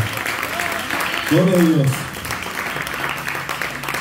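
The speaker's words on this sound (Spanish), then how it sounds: "Si le quiere dar un aplauso al Señor, dáselo." A church congregation claps steadily throughout while a voice briefly speaks in Spanish over the applause in the middle.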